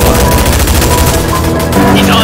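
Dense, continuous gunfire from a video game battle between combine and rebel forces, loud and sustained throughout with overlapping bursts, while players shout over it.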